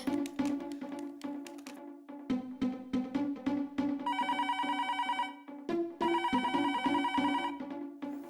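A telephone rings in a loud, repeating electronic pattern, bursts of ringing alternating with short pauses, over a continuous musical backdrop in a Hindi TV comedy household scene, with no voices.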